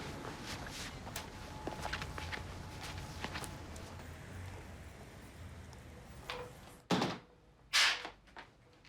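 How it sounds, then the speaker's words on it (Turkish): A door being opened at home: a dull thunk and a sharp latch or handle click near the end, after quiet room tone with faint shuffling footsteps. "Hadi gel, kapıyı açıyorum."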